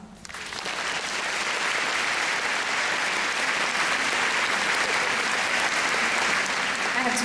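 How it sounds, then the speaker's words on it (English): Audience applause at a Vancouver wellness event with Dr. Christiane Northrup, steady dense clapping that swells in after a brief start and holds loud and full throughout, without speech. "I have to find a way to clap with the mic."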